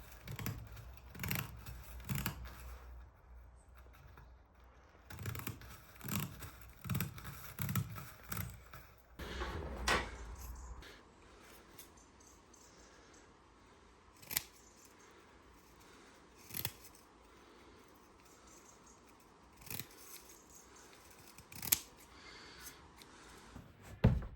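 Quiet scissor snips and scraping cuts trim a dried capsaicin extract piece flat for brushing during a camping trip, coming as scattered short crunches, dense at first and then sparser and isolated, faint and close.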